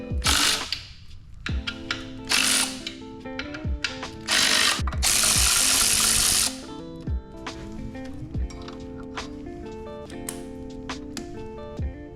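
Power tool removing the clutch from a Nissan C33 Laurel, with loud bursts of whirring and rattling, one sustained run and several short hits, close up with metallic clatter between them.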